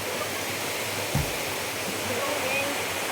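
Steady broadband rush of Kasili Falls waterfall, a continuous moderate roar of falling water with a brief low thump near the middle.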